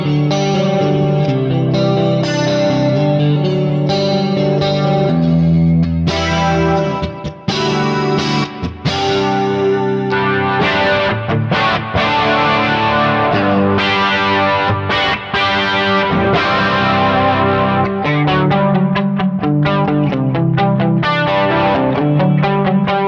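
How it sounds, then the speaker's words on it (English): An electric guitar running through a pitch chorus effect on a Kemper profiler, played continuously with shimmering, detuned, distorted chords and some single notes, loud and alone. "You get a really awesome pitch chorus that sounds like this."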